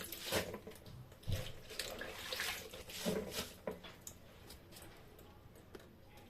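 Cabbage leaves being washed in water by hand, with irregular splashing and sloshing bursts close by, each fading to a quieter trickle, no voices.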